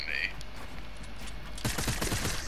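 Gunfire in a 1v1 video game build-fight match, a quick burst of several rapid shots late in the clip over steady game background noise.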